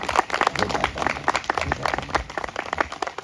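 Enthusiastic audience applause for the organizing committee at an all-India poetry gathering during a Sharad Purnima festival, a dense, steady burst of many hands clapping together throughout.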